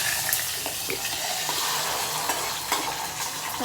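Tempering spices sizzle in hot oil in a pan, a continuous close crackling hiss with occasional sharper pops and stirring scrapes.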